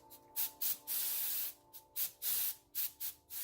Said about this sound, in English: Help it along here with my spray can.